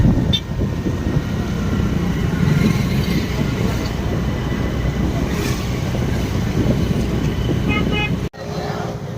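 Dense road traffic near the Cheyyar river in Tamil Nadu, with vehicles crowding past a packed gathering; a steady loud wash of engines and a short horn toot rise under continuous talk from nearby people.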